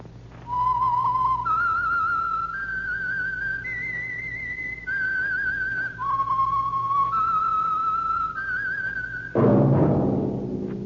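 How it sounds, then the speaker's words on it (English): A clear whistled tune of steady held notes stepping up and down in pitch, the signal theme of the radio program The Whistler, played alone, ending with a sudden burst of noise. "That whistle is your signal for the Signal Oil program"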